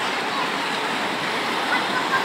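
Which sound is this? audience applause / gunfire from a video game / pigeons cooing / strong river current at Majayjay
strong river current at Majayjay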